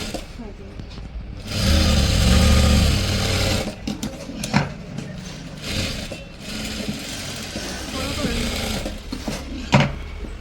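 A sewing machine stitches a blouse in a steady, fairly loud whirring run of about two seconds, then runs in shorter bursts while a person talks over it.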